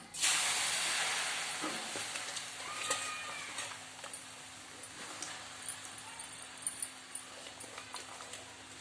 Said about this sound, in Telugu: ఏ నూనె లేదు, ఏం లేదు, ఉట్టిగానే ఉడకబెట్టుకుంటున్నా